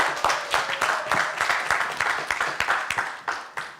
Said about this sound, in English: please join me congratulating both teams on their successful debate with a round of